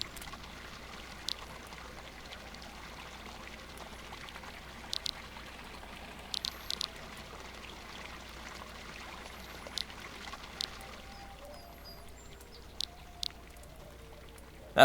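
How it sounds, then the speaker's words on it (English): A Second Life waterfall gives a faint, steady rushing wash that runs unbroken throughout, with a few brief high clicks or chirps over it. "That waterfall really does add quite a bit to it."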